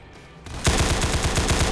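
Rapid automatic gunfire from a Roblox CS:GO-style shooter game, a steady burst of evenly spaced shots starting abruptly after a quieter moment and running loud and close to the end.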